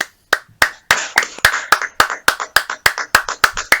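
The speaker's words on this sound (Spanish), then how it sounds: "Los aplausos." Hands clapping in a steady rhythm of about a dozen sharp claps, close and loud, with no voices.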